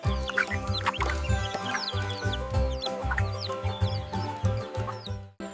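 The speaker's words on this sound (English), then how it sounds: "The hen gives us eggs." A cartoon hen clucks in a steady run of short, close, loud clucks with bright chirpy accents throughout.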